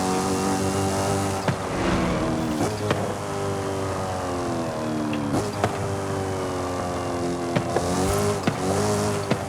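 A BMW M3 GTR drifting in Forza Horizon 5, a loud sustained engine note rising and falling with gear shifts, with tire squeal mixed in and sharp clicks throughout.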